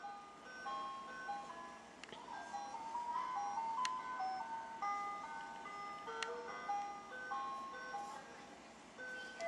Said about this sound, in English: What is this, like the first ice cream truck ever made?